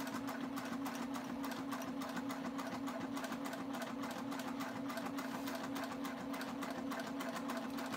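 Sewing machine stitching fabric at a fast, steady speed, a continuous close mechanical hum with rapid needle clatter throughout, no talking.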